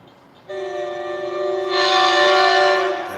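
A CT Rail freight train sounds its Aussie-style horn at a station at night, one loud sustained multi-tone chord that swells and then cuts off, heard alone nearby.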